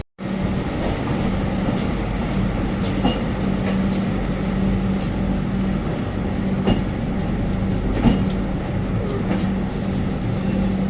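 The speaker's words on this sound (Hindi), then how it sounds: "उधर कोई ट्रेन पास हो रही है बांद्रा टर्मिनल की" Another train rolls past on the Bandra Terminus line, heard from inside a moving 3AC coach of the 12445 Uttar Sampark Kranti between Delhi and Katra: loud, steady rumble with rhythmic clickety-clack of wheels over rail joints.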